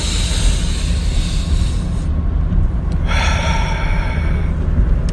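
A deep breath drawn during a breathing exercise, a long loud rushing inhale close to the mic, breaking off briefly before a second strong airy surge.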